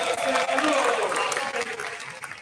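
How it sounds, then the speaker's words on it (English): An audience claps at the third day of a DXN camp in Dubai, a loud, continuous wash of applause from a crowd, with voices mixed in. "Big round of applause, please."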